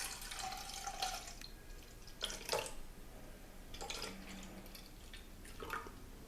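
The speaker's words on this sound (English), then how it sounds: "you're going to get your measuring cup and you're going to add your milk" Milk pours from a measuring cup into a cooking pot as a soft, close liquid splash and trickle, in a few short gurgling bursts over faint background noise.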